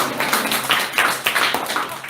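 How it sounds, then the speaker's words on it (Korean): A room of students at a university youth-guidance department presentation session claps for the presenting team, a dense, steady patter of many hands lasting a couple of seconds with no voices over it. "소개해 주신 상담복지팀에게 박수"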